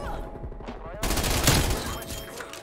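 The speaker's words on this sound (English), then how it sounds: "I don't want my strafe run to kill me" Strafe run gunfire in Black Ops Cold War: a loud, dense fusillade of rapid shots that bursts in suddenly and rolls on, with a voice talking over it.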